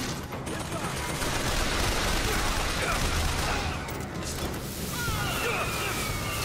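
Rapid machine gun fire in a video game, a dense sustained roar of shots lasting throughout, fairly loud and continuous with slight dips in intensity.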